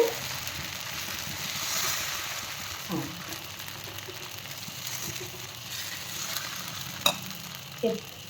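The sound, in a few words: millet-leaf dosa batter sizzling in oil on a griddle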